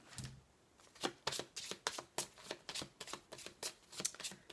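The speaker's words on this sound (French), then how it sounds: "je vais vous prendre une dernière petite carte avec l'oracle de l'amour" Oracle cards are shuffled and drawn by hand in a quiet room, a close series of quick papery riffles and flicks repeating in a steady, slightly uneven rhythm.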